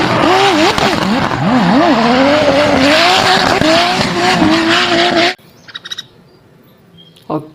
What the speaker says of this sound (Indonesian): Wah, yang ini mobil balap.